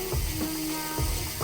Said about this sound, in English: free hub sound from these Irwin hubs